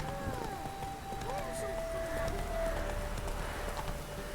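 Roach, Geralt's horse in The Witcher 3, gallops with a steady, rhythmic clip-clop of hooves, moderately close, over a sustained tonal drone and ambient game sound.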